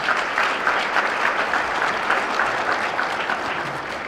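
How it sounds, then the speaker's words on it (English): Audience applause at an annual awards banquet, steady, dense clapping from a large room that holds an even level throughout, heard on its own without speech. "I think for that we should give a round of applause."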